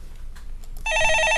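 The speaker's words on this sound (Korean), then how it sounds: "전화 받아보겠습니다." A telephone bell starts ringing for an incoming call, a bright steady electronic trill that cuts in sharply after a quiet moment of faint background noise.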